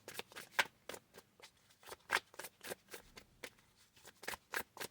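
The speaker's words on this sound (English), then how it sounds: "Let's see what our oracle cards are saying." Oracle cards are shuffled by hand in a quiet, close series of quick papery riffles and flicks, with no talk.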